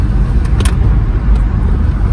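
A car out on the road during a driving lesson hums along at low speed, its engine and tyre rumble steady and close from inside the cabin, with a few faint knocks over it.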